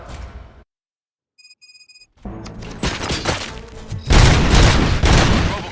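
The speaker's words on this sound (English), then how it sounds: "Gunshots? What's going on?" Gunfire erupts in the RoboCop Rogue City video game, a burst of loud shots and booming impacts that follows a brief silence and some electronic tones.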